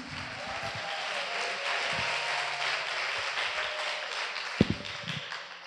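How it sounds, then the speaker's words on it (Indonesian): An audience at a santri Islamic public discussion session gives steady, dense applause that fills the room evenly and holds throughout, with a few faint knocks and thumps underneath. "Tepuk tangannya dong buat Allah Yunus"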